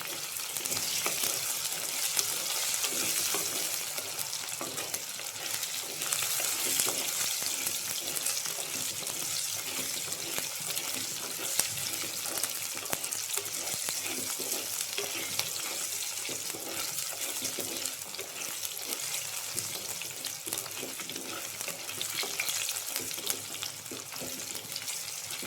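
Small shallots fry in oil with salt in a pan for a pumpkin and chicken curry, a steady dense sizzle running unbroken at moderate level with faint crackles throughout, no voices.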